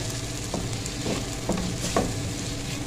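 Eggs for an omelette bun paratha are beaten in a bowl, with four quick, evenly spaced scraping strokes over a constant hiss of background noise.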